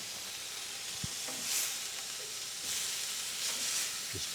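A sous vide pork chop sears in a hot pan with a steady, soft sizzle and hiss, broken by a few brief clicks and clatters from flipping the meat.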